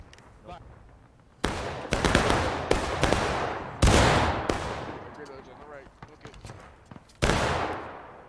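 Musket volleys in the Civil War video game War of Rights near the Dunker Church, a run of loud ragged gunshots and crackling fire, some close and some farther off, with a voice calling out beneath.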